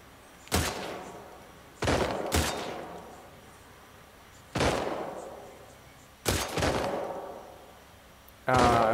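Gunfire in The Last of Us Part II: several loud single shots, each with a sharp crack and a trailing echo, spaced a second or two apart, with no talk.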